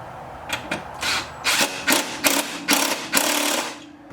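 Hand tools tightening bolts while a street legal kit is fitted to a four-wheeler ATV: a series of short ratcheting and clicking bursts at an irregular rhythm, close and fairly loud.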